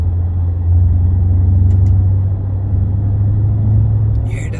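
A Maserati Quattroporte Trofeo with a 580 hp engine cruises in sixth gear at 1500 RPM, producing a deep, steady, loud rumble that lasts throughout, with a few faint ticks and a brief higher burst near the end.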